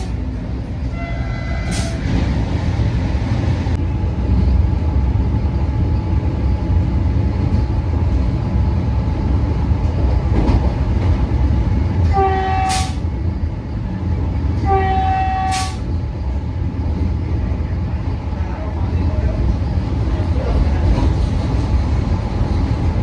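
A Vande Bharat train rumbles along with a steady loud rolling roar, while its horn gives a short blast early and two longer tonal blasts later, heard nearby without any talking.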